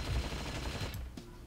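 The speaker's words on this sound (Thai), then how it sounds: "สกิลแรกก็จะเป็นการบอกว่าโยนระเบิดไปนะฮะแล้วก็ยิงตามหลัง" Grenade-throw and gunfire skill from the mobile MMORPG Final Daybreak, a dense, steady rattle of rapid shots with a sharp impact near the end.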